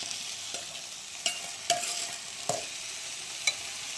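Mustard seeds, fenugreek and spices stirred in hot oil in a pan, a soft crackling sizzle with a few sharp clinks and taps of the spoon against the pan.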